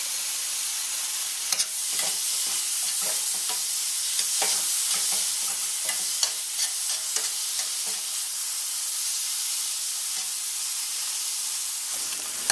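Seasoned shrimp frying in a curry pot, with a constant bright sizzle and hiss and frequent stirring clicks and scrapes, close and steady for the whole stretch without talking.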